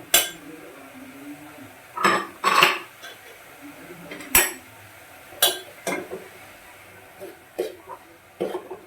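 Chopped carrots go into a cooking pan while making vegetable Manchow soup, giving scattered clinks and scrapes of utensils against the pan, several sharp close knocks spread across the stretch, with no speech.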